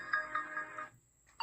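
An Android phone rings after being triggered by a key finder, giving a short bright tonal ringtone phrase with a few pulses, then a pause and the start of another ring, fairly faint and alone.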